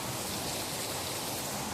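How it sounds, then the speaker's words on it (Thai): Steady, dense hiss of heavy rain pouring down outside, heard from indoors at a workplace, constant and loud with no pauses or voices. "เสียงฝนตก นี่เสียงดังมาก"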